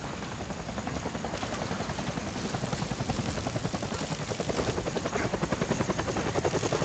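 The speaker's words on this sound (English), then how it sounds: "That's the helicopter chasing my friends." A helicopter in the video game Deadlight, its rotor chopping in a fast steady pulse that grows slightly louder and closer over several seconds, heard alone without talk.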